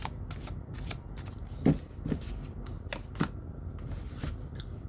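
Soft riffling and flicking of tarot cards being shuffled and drawn, with several crisp card snaps over a faint background.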